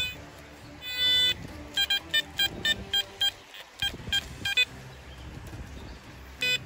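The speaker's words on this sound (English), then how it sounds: "The detector is receiving a signal." Repeated short electronic beeps from a metal detector picking up a signal during outdoor treasure hunting, about ten clipped tones in an irregular rhythm, fairly loud over a rumbling background.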